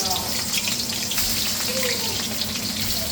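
Three large sliced onions fry in hot oil in a pan, making a loud, continuous, close-up sizzle with a watery hiss that holds steady throughout.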